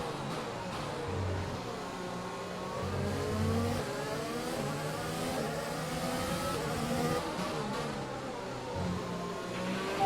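F1 race car engines at the Baku Grand Prix in F1 2020 wail at high revs, with the pitch rising and falling through gear changes in a steady, sustained drone across the lap.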